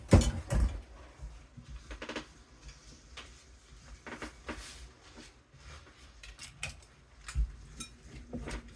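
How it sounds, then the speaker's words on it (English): Spoon scraping and knocking through thick banana bread batter in a bowl, irregular soft clinks and taps repeating close up, with a few louder knocks and no talk. "Just stir until you don't see any more dry flour"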